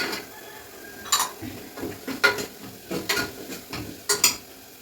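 Ingredients for potato kurma frying in a pan, with repeated clinks and scrapes of a spoon stirring against the metal over a low sizzle, several distinct bursts spaced through the clip.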